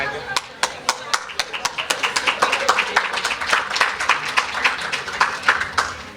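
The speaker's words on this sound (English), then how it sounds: "I mean, I can do the clapping." Rhythmic hand clapping at a public hearing in Ottawa, sharp regular claps in a steady beat close to the microphone, with voices talking underneath.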